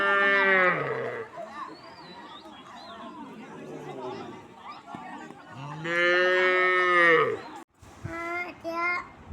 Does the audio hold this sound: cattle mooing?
yes